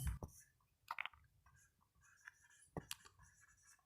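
Pen scratching on paper during a class 10 maths lesson, with soft, scattered strokes and taps separated by quiet gaps, near and faint.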